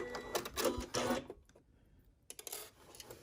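A sewing machine runs in two short bursts of rapid mechanical chatter while back stitching fabric for a baby bonnet, separated by a brief quiet pause, fairly faint overall.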